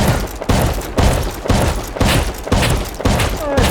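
Rapid bursts of gunfire in the Rust survival game, about seven loud sharp volleys at a steady half-second rhythm, close and punchy.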